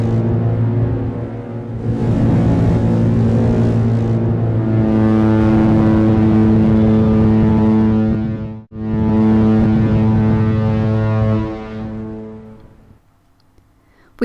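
Ship whistles give two long, loud, tonal blasts, the deep sustained horn holding steady for several seconds each with a brief break between, then fading out.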